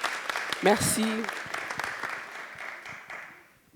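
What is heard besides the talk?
audience applause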